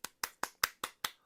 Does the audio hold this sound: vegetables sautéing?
no